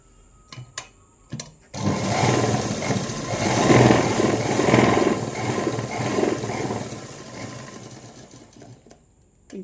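A sewing machine runs a single continuous stitching pass along a seam on a Punjabi dress, a dense steady whir lasting several seconds, preceded by a few brief clicks and ending in quiet.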